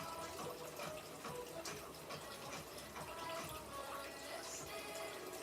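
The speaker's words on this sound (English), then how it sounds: "Can y'all hear the bubbling?" Water in a home fish aquarium bubbles and trickles with continuous, fine splashing and soft gurgling, close and fairly quiet, with no talking.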